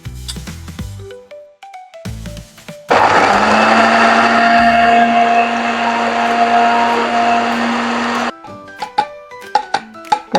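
A blender grinds chili, garlic, salt and water for a pempek sauce. It roars loudly and steadily for about five seconds, then stops, with clinks and bumps before and after.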